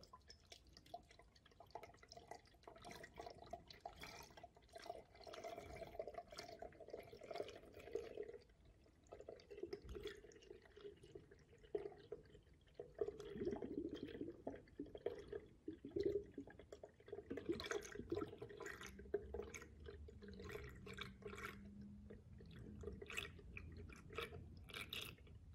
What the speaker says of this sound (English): now you can slowly fill the reservoir until it's full